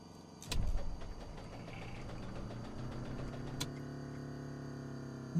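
Piper Turbo Arrow engine in a flight simulator cranks over without catching, a motor whirring steadily after a sharp click, with a brief louder burst early on and a thin tone running through.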